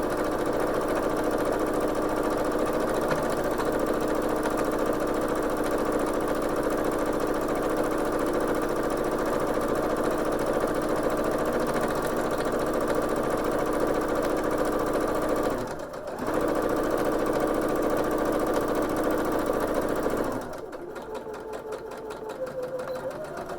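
A sewing machine stitches a narrow 1/8 inch seam along a fabric edge for a face mask, running steadily at close range for about twenty seconds, with a short pause midway and a quieter stretch at the end.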